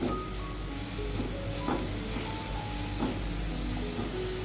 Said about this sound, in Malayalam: നമുക്കിതൊന്ന് ചെറുതായിട്ടൊന്ന് വാട്ടിയെടുക്കണം.